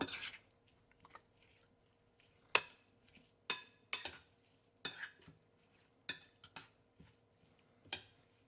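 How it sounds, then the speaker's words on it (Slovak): Ingredients with chili flakes stirred together in a bowl or pan: about ten short, sharp scraping and clinking strokes at irregular intervals, quiet and close with near silence between them. "A pridám aj trochu čili vločiek. Všetko spolu premiešam."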